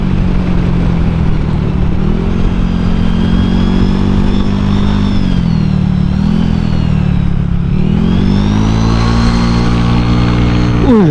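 Honda Vario 125 scooter engine droning steadily while riding and cornering, its pitch dipping and rising as the rider eases off for hard braking and then accelerates again, loud and close.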